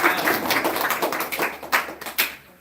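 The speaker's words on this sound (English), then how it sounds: "Can you give a round of applause to this person?" Audience clapping at a devotional class on time management, a modest scatter of claps from a small group, uneven and fading toward the end.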